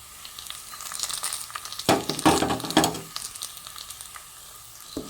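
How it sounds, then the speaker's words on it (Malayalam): Beef liver tossed with chili powder, meat masala, pepper and turmeric sautés in hot oil, a steady sizzle swelling into several loud, crackling bursts as it is stirred, then settling back, close and with no talk. "ഇത് നമുക്ക് എണ്ണയിലിട്ടൊന്ന് വഴറ്റിയെടുക്കാം"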